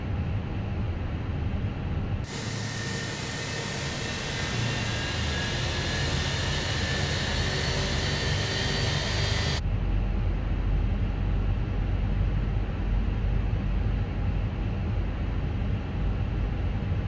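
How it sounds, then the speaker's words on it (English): Airbus A320 (Fenix) jet engine in the MSFS2020 flight simulator spooling up at the gate before pushback: a steady broadband roar with a rising whine lasting several seconds, then settling into a constant rumbling drone. "Starting engine 1."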